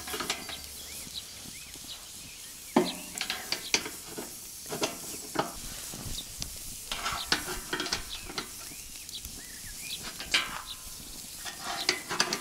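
Shashlik meat sizzles softly and steadily on a grill, with occasional scrapes and clinks of utensils cutting through the hiss.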